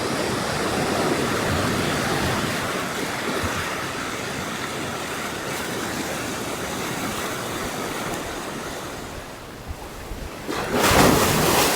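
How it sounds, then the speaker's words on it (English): Ocean surf rolls in at Ruby Beach on the Washington coast, a broad continuous wash of breaking waves with some wind, steady and moderately loud, swelling briefly near the end. "we have next up Ruby Beach Trail, one of the most photogenic beaches in the area"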